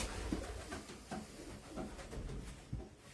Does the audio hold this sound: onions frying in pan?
no